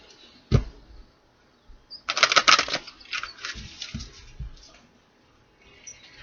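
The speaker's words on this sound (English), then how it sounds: "let's shuffle these up" Tarot cards are shuffled by hand in quick riffling bursts and soft slaps, close and fairly quiet, starting with one sharp knock and then trailing off, with no talk.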